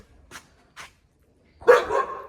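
Two short, quiet yaps from a dog, followed by a louder, rougher burst of barking or growling close by.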